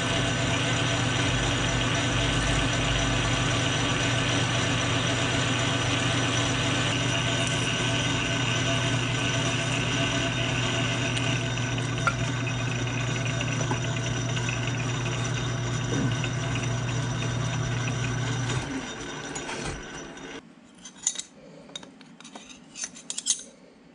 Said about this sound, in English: we'll just use the cutoff tool to take about